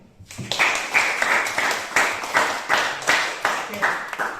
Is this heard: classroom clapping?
yes